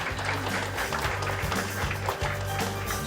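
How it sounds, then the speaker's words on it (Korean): Steady applause from an indoor audience at a rare disease day ceremony, continuous and fairly close, as a guest is welcomed onto the stage. "박수로 환영해 주시면 감사하겠습니다"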